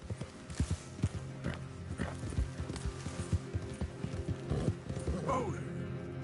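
Horse hooves pound in a quick, rhythmic gallop in Red Dead Redemption 2, the beats close and distinct, with a faint whinny near the end.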